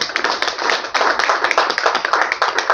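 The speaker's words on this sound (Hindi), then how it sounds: "तालियां।" Audience at a Bihar Postal Circle World Post Week ceremony claps steadily, a dense, close wash of many hands with small swells and no voices over it.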